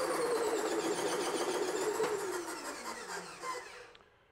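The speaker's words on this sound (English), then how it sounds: "We're gonna turn our charging motor on." A circuit breaker's spring-charging motor runs with a steady mechanical whir that slowly drops in pitch as it winds down over a few seconds, close and alone.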